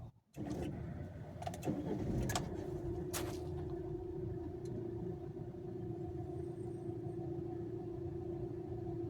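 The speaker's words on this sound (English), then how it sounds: "I'm just going to start the vehicle one last time" A Jeep engine cranks and catches with a brief starter whir, then settles into a steady, close idle rumble with a faint tonal hum that continues unbroken.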